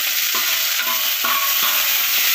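Continuous sizzling and hissing of chopped onions and green chillies frying in a pan, with a few soft clinks of a utensil stirring.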